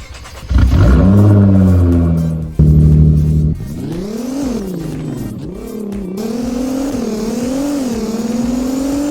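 A stock car engine revving in the Roblox game Driving Empire, a loud close whine that climbs through gears, drops briefly, then rises and wavers steadily.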